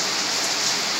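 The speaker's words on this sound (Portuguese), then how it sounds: "E a chuva está desabando lá fora." Heavy rain pouring down outside, a dense, even hiss of water with no break over a single second, no voices present.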